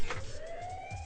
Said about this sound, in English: I guess that's the siren to let you know that we're running out of time for the show